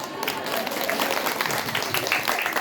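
An audience at a Sundanese religious sermon in a village applauds, a steady dense clapping throughout the short stretch with a few voices mixed in.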